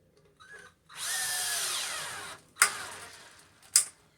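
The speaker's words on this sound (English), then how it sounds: "Get a couple screws in here to get it started." A cordless drill drives screws into an electrical box, giving a steady whirring run of about a second and a half that winds down, followed by two sharp clicks.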